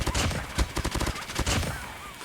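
Rapid gunfire from an RUS-79U rifle in a video game, a loud string of sharp, fast shots in short tap-fire bursts with brief pauses between them.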